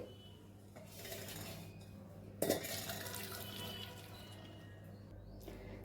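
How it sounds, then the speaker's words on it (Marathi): Water pours and splashes out of a pot of cooked lentils as they are drained, with a sharp clank of metal midway and a steady trickle continuing to the end. "तर आता ह्याच्यातलं मी पाणी काढून घेते"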